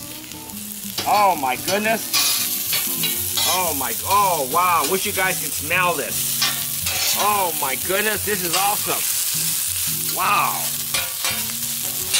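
Beef and asparagus stir-frying in avocado oil on a Hunsaker griddle, with a steady loud sizzle running the whole time under a voice exclaiming excitedly over it.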